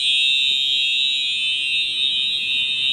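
A false fire alarm in a building, giving a loud, continuous, piercing electronic tone that holds steady for the whole stretch with no pauses or voices.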